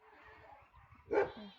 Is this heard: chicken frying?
no